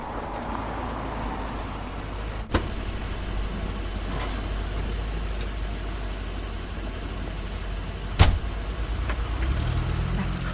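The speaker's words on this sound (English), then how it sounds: "That's Crane's car." A car pulls up in The Wolf Among Us, a low engine rumble steady beneath ambient hiss, punctuated by a couple of sharp door-like clunks and a brief rising engine note at the end.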